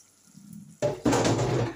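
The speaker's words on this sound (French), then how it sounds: "C'est le moment maintenant de mettre de l'eau." After a short quiet hum, water abruptly pours into a cooking pot for beans, a loud close gush that stops briefly and then resumes, with no talk.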